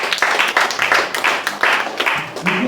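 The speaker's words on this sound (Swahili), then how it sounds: "Mpe Bwana sadaka nzuri ya makofi" A church congregation applauds during a service, rhythmic rounds of clapping that come in repeated bursts over a couple of seconds.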